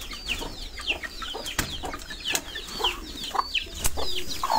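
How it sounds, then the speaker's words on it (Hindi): Thai Silkie chickens and chicks cluck and peep nearby in a steady chorus of short chirping calls, with an occasional sharper note, against a low background hum. "ये पीछे आपको चूज़ों की आवाज़ आ रही होगी"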